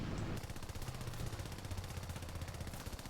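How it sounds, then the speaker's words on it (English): Continuous rapid machine-gun fire from aircraft in the War Thunder video game hammers away loudly and steadily throughout, dense and unbroken. "Okay, somebody's shooting me."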